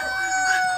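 A white-breasted rooster crows once, a short strained call with steady tonal harmonics, fairly close and moderately loud.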